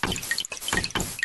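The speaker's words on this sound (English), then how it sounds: "If you can hear running water, walk Bob through the house until you find the leak." Water dripping from a leak in a house in a Bob the Builder video game, a rapid irregular patter of bright drops repeating in bursts, loud and close with no voices.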